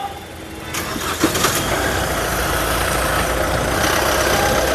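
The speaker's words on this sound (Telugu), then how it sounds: "ఈ కారు కానీ ఆ కారు రెండు కార్లు కూడా బయలుదేరుతున్నాయండి" A 2019 Mahindra XUV 300 W8 starts up near a transport container, its engine catching after a brief crank and settling into a steady idle hum close by.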